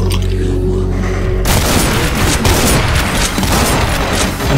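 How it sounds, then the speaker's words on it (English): A grenade goes off in Doom Project Brutality at a nuclear plant, a sudden loud blast that turns into a sustained, crackling roar of explosions and gunfire, all close and filling the scene. "that was a grenade!"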